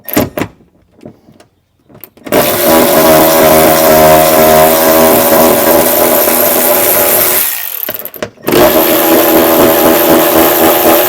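A loud power tool drives hard while removing the stock hardware from a forward mount on a 2021 Ford Bronco, running about five seconds, pausing briefly, then starting again after a quiet start.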